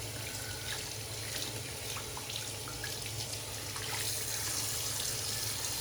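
Tap water runs steadily into a sink to rinse a shaving brush, a constant soft splashing hiss with faint drips and no talking.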